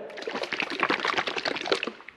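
A bottle of liquid radiator treatment being shaken hard for about two seconds, a continuous close sloshing and gurgling of fluid against the plastic with no talking.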